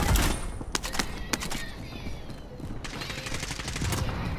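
Gunfire in a multiplayer shooter game, sharp cracks in scattered bursts and rapid strings, loud and close, with some quieter shots between them.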